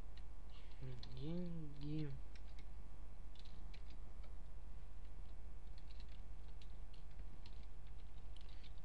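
Typing code on a computer keyboard, a run of soft, irregular key clicks that continues quietly through the clip, with a brief spoken word near the start.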